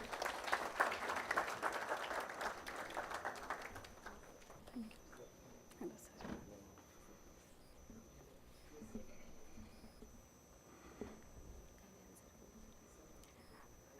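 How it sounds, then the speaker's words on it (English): Crowd applause for a chief guest at a college event in Pune, with loud clapping at the start that thins out by about four seconds into scattered claps and faint murmuring. "Please give a big round of applause."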